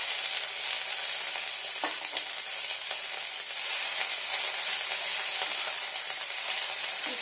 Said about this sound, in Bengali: এটা হচ্ছে পেঁয়াজ একটু ফ্রাই করে নিচ্ছি